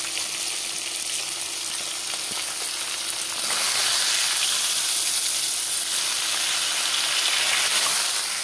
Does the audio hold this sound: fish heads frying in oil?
yes